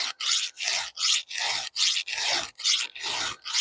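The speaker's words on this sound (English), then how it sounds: "I'm going to sharpen a chainsaw." A hand file rasps across the teeth of a chainsaw chain during sharpening, making about nine steady back-and-forth strokes with brief gaps between them, close up and fairly quiet, with no voices.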